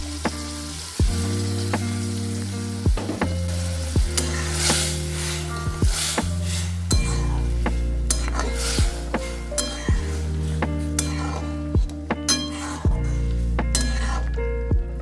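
Chopped onion and boiled tomatoes are stirred in a hot frying pan for tomato soup. A loud, continuous sizzle runs throughout, broken by repeated spatula scrapes and metallic clinks against the pan at a steady rhythm.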